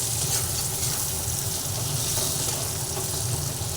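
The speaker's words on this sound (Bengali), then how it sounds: "আলুটা অল্প করে ভেজে নিচ্ছি মশলাটার সঙ্গে" Potatoes frying with spices in a pan for a Bengali mango and rohu fish dish, a steady dense sizzle filling the whole stretch with a low bubbling underneath, close and continuous, no talk.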